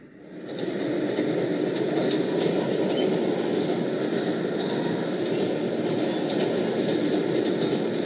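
An R160B subway train on a Manhattan-bound B Express run roars steadily along the line, a loud continuous rumble and rattle from inside the car, with no talk.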